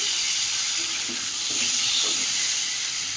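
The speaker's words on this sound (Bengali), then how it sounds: "খুব সুন্দর করে কষিয়ে নিয়েছি" Curry with potatoes being sautéed in a pan gives a steady, close frying sizzle and hiss, with faint stirring scrapes partway through and no talking.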